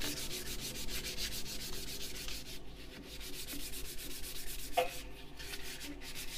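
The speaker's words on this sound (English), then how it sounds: "the much finer bits can be done again with 240 grit and just the handwork elbow grease." Hand sanding a turned juniper wood spatula with 240 grit sandpaper, a steady close rhythmic rasping of repeated back-and-forth strokes that runs continuously with brief pauses.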